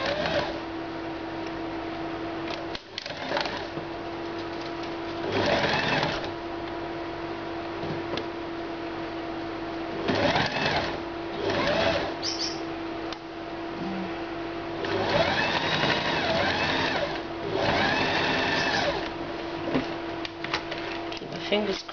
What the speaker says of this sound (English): Sew the whole thing up and complete the side seam.